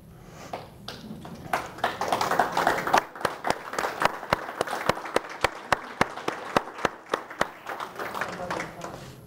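Applause for veterans at a city senior program salute, a dense burst of clapping from a seated crowd that thins into a steady run of single loud claps, with murmured voices underneath.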